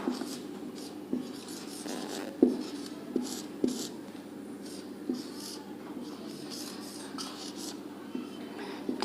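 A teacher writes a definition during a Class 10 maths lesson on arithmetic progression, producing soft scratchy strokes with occasional sharp taps, close and quiet, against low background hum.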